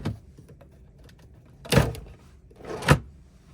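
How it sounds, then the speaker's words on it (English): Stateroom drawers on a cruise ship balcony cabin are yanked open, two separate woody scraping slides with a thump, close by, separated by quiet. "These drawers do come open."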